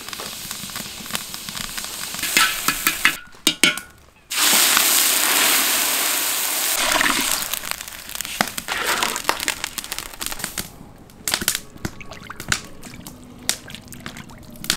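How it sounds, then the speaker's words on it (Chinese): Rock sugar, water and oil heat in a wok for caramel, giving a loud bubbling hiss with crunchy crackles and a pouring splash, broken by brief quiet gaps and sharp clicks. "锅里边先炒一个糖色，放入点冰糖，加少添点水，把它化一下，来点油"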